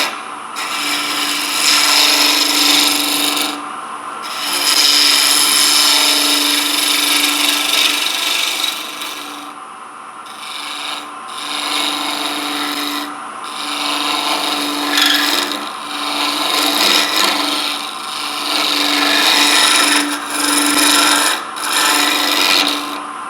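Long stretches of steady scraping and rasping as a plywood bell is shaped on a woodturning lathe, the tool cutting with brief pauses and changes in pressure, with no speech over it.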